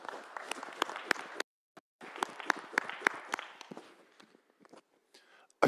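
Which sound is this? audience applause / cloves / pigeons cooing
audience applause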